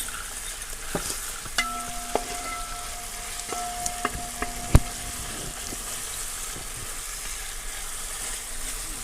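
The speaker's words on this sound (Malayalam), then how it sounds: "ഇങ്ങനെ വഴണ്ടി വരണം നമുക്ക് കുറച്ചധികം നേരം വേണ്ടി വരും" Onions sautéing in a pan for kapa biriyani, with a steady soft sizzle and scattered utensil scrapes and taps as they are stirred, close and fairly quiet with no talking.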